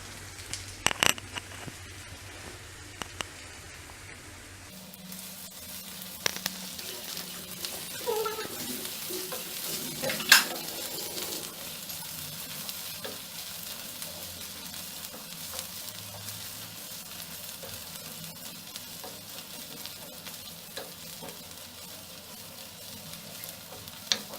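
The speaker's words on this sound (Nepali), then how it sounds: "अब हामी यसमा मसिनो गरी पिसेको लसुन र अदुवा राख्छौँ" Minced garlic and ginger frying with cooked onions for a Nepali mutton curry, a continuous soft sizzle with occasional spoon scrapes and clinks, no one speaking.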